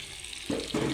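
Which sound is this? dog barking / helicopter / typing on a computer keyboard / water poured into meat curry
water poured into meat curry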